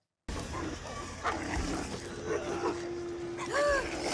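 Dog barking from a Fallout TV episode, brief yelps and whimpery tones heard through a mix with music and background sound, with people talking over it.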